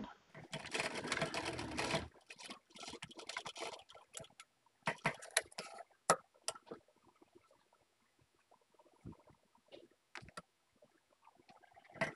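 Sewing machine stitching fabric ruffle pieces together for a sleeve design, a dense whirring run for about two seconds, then shorter bursts of stitching broken by pauses and handling noises.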